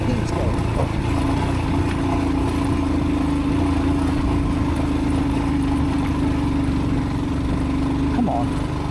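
A motorcycle ridden off-road through rough terrain in Zanskar Valley gives a continuous loud, close engine drone with buffeting wind and rumble throughout.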